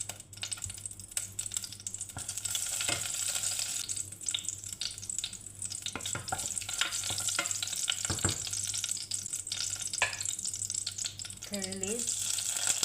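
Ghee sizzling and being stirred in a pan while making an Indian-style chana dal curry: a bright, constant frying hiss with close scraping stirs and clinks throughout.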